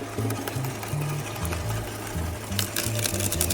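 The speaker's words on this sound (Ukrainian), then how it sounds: "він її втягує, так що нормально проходить" A HECHT 6300XL Silent brushless garden shredder rated 3000 W grinds through branches with a loud, steady mechanical chatter and rhythmic pulsing as wood is pulled in, close up and without speech.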